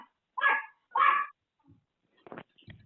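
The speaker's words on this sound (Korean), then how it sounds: "강아지" A puppy gives two loud, close yelps in quick succession, followed by a few fainter, softer whimpering sounds, in an indoor setting with no talking.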